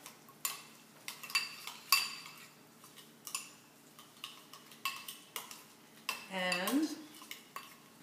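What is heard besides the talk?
mixing tuna burger mixture with paprika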